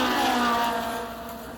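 A small AFX 1968 Corvette 427 slot car whirring around a track on easy laps, its electric motor giving a steady, smooth whine that fades slightly as it moves away.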